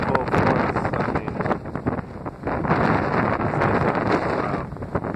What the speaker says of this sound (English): it's just getting a little windy now